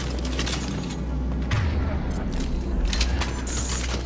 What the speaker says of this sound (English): So the ammo is reloaded.